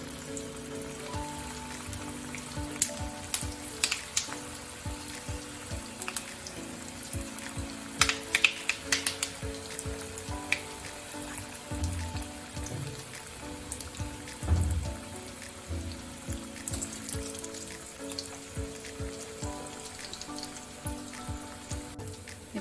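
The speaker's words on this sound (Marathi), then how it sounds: "आपल्याला ह्या सगळ्या टिक्की तळून घ्यायच्या" Mixed-flour sambar tikki shallow-frying in hot oil over a medium gas flame, giving a steady crackling patter with scattered louder pops and spits throughout, no talking.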